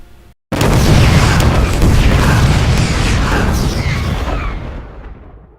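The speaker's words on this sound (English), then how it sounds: "Then the explosions." Explosions sound effect for a StarCraft 2 Wings of Liberty trailer: a sudden, very loud booming blast that rolls on as a dense, rumbling wall of sound for about five seconds before slowly fading, with no talk.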